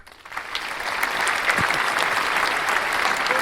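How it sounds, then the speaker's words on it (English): A group applauds steadily for a winner at the end of a casual quiz game, the clapping swelling after a quiet start and holding loud and dense to the end. "So let's give a round of applause for Vishak."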